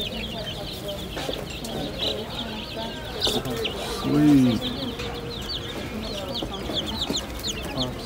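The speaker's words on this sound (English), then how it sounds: "chickens, and more chickens." Chickens cluck continuously nearby in a busy, overlapping chorus, with one louder, lower cluck standing out midway. A person says a single brief word over them.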